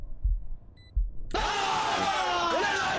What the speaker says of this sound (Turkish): Kalp atışı koymuşlar bir de.